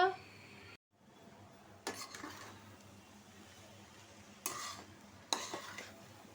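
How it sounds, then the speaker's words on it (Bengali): Katla fish curry with drumsticks being stirred in a cooking pot: soft scraping and a low simmering bubble, punctuated by three sharp clanks of a utensil against the pot, fairly close and moderately loud. "আবার একটু লাড়া চারা দিয়া আবার ডাইকা দিব আবার পাঁচ মিনিট রান্না করে নিব"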